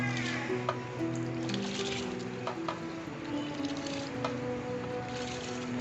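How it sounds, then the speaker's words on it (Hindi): Rice is poured into a pot of nearly boiling water in a home kitchen, a soft sustained squishing and bubbling with low hum and scattered small clicks, close and steady. "अब पानी हमारा जो है ऑलमोस्ट बॉईल होने को है। अब हम इसमें चावल डाल देंगे।"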